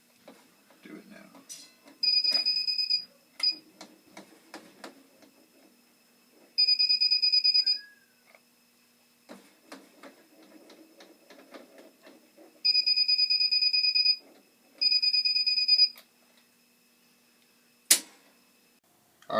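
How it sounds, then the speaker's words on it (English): Electronic circuit breaker finder beeping while locating the breaker for an outlet being swapped for a GFCI: bursts of steady high beeps, some long and some short, repeating at irregular intervals, with quiet handling sounds and faint talk in the gaps. "one of these is beeping, and it will let me know which one I should turn off"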